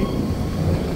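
A Swiss mountain train climbing toward Jungfraujoch in snow rumbles along the rails, steady and close, with heavy low-end roar and faint wheel clatter throughout.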